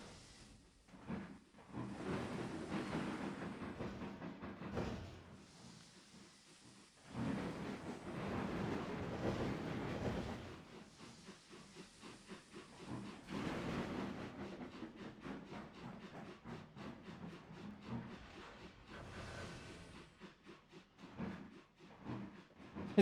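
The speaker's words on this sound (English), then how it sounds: "It's so nice seeing the train slowly climb up." A train in the Trainz 22 simulator slowly climbs uphill, producing a deep, continuous rumbling drone that swells and eases in long waves, with no voices over it.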